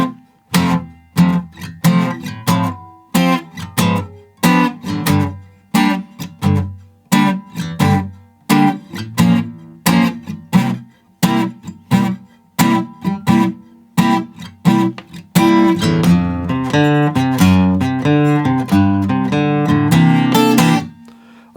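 Guitar plays the chorus of a song, starting with evenly spaced strummed chords and moving into fuller, continuous strumming near the end, loud and close with no talk.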